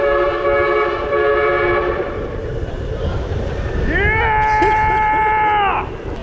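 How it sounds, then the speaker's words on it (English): A train horn fitted to a bicycle blares loud, sustained chords, cutting off, then sounding again with a rising onset before stopping, over steady outdoor rumble. "That's a train horn you put on a bicycle."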